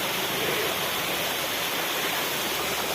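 Small waterfalls in a forest stream in Uttarakhand give a steady, dense rush of splashing water, close and continuous with no break.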